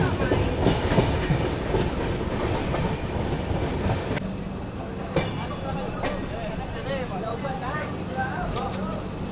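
A long-distance passenger train on the New Delhi–Patna route rolls along the rails with a dense, continuous rumble and rhythmic clickety-clack of wheels over joints, close and loud, with faint hissing and background noise throughout.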